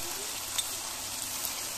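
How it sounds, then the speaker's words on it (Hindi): Chicken karahi frying in a pan, restaurant style, heard as a faint, steady sizzling hiss with a few tiny pops. "और अब इसको फिर मैं इसका और रंग चेंज करने तक थोड़ा सा इसको फ्राई करूँगी।"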